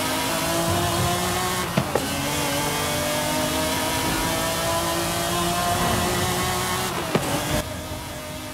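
A 1997 McLaren F1 GT's engine in the racing game Forza Horizon 5 drones in a steady, sustained note for the whole stretch, with two brief dips where the revs drop before the note comes back.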